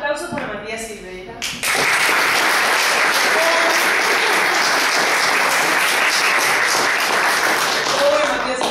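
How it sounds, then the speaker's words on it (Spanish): An audience at a research presentation bursts into steady applause for Matías Silveira. A voice talks over a short stretch of early clapping, then full dense clapping takes over and holds loud and even to the end. "Aplausos para Matías Silveira."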